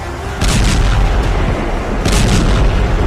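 A deep, rumbling explosion roars loud and sustained, swelling into a second heavy boom, like a nuclear blast sound effect, with no voices.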